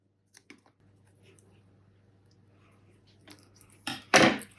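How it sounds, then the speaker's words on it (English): Scissors cut a fabric flower: a few sparse, quiet snips in a still room, then louder, closer cutting and rustling near the end. "And then just cut the flower."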